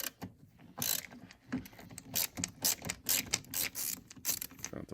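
Phillips screws being worked out of a headlight switch on a Chrysler Intrepid, a series of close, dry ratcheting clicks and scraping metal turns in irregular bursts with no talking.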